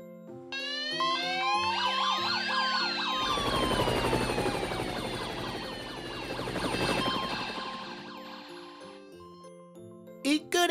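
Several cartoon fire engine, police, ambulance and helicopter sirens wail and sweep over a bright, busy musical backdrop, with chimes and tones around them and a loud burst near the end.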